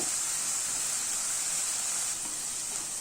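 Steady, even sizzle of grated cabbage and carrot sautéing in a pan, a continuous hiss throughout with no voices.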